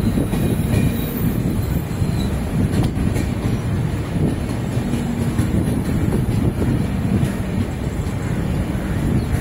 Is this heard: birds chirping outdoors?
no